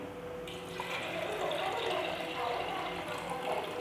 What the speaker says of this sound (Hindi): और साथ में शामिल करूँगी पानी